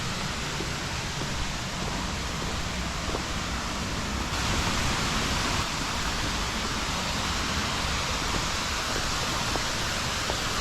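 A steady, dense roar of rushing water from Balite Falls in Amadeo, Cavite, close by, continuous and unbroken, with a slight swell partway through.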